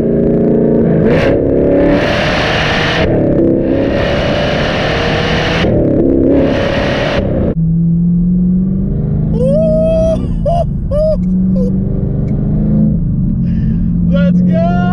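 A Chevrolet Camaro ZL1 1LE engine revs hard while driving, with loud repeated rising bursts and blips between shifts, then a steady cruising drone, with someone talking over the car.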